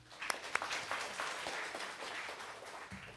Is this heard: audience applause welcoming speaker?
yes